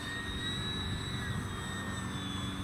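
Arrows Hobby F8F Bearcat 1100mm RC model fighter flying at full power, giving a steady, faint electric whine that holds level through the whole short stretch.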